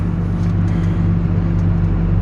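A tractor engine drones steadily at constant load while pulling a no-till implement in tenth gear, a loud, close, unbroken low hum with no talking.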